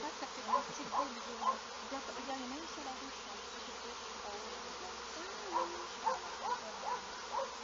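Honeybees buzz steadily around a hive in a spring apiary, a soft continuous drone with several louder passes as individual bees fly close by, then drift off again.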